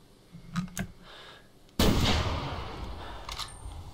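A single loud rifle shot in theHunter 2014, a PC deer-hunting game set in Hirschfelden, bursts in abruptly and rings out in a long rumbling decay, with faint clicks and rustles before it.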